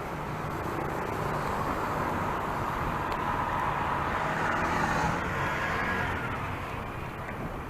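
Steady road traffic rumbling along Green Highway near SNR in Novaliches, a continuous broadband wash of cars and heavier vehicles passing close by, fairly loud and even throughout with no talking.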